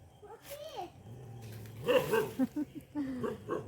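A dog that seems unwell gives short yips, barks and whimpers at close range, with voices talking around it in a house.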